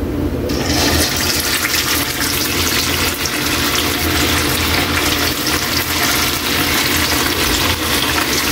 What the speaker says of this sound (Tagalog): Yan ang tamang pag-prito, Kaylee.